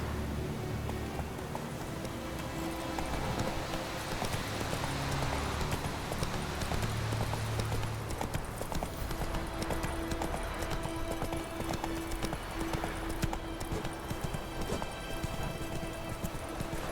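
Roach, the horse in The Witcher 3, sends out steady clip-clopping hooves at a walking pace through the whole stretch over a constant outdoor game ambience, with a faint whinny partway through and no talking.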